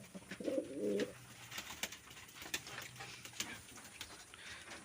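Pigeons in a loft give a soft, brief coo near the start, followed by faint scattered clicks and shuffling in a quiet background.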